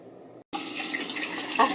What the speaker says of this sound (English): After I'm done rinsing,